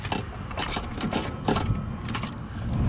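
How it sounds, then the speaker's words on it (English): Ratchet working a bolt loose on a Ford F-250, a busy run of metallic clicks and mechanical rattling close by, with no talking. "I just broke this bolt loose and it's coming out really nice"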